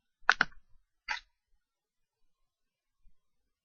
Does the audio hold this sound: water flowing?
no